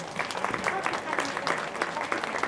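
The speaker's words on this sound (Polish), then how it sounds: "wielkie brawa dla niej" A crowd at a St. Nicholas Day event in the main pump room of Krynica-Zdrój breaks into steady, lively applause, dense clapping that carries on throughout, with a voice faintly mixed in.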